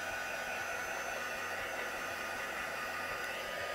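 A hair dryer or heat tool blows on watercolour-painted stamp paper, a close, constant whooshing hiss with no pauses or speech.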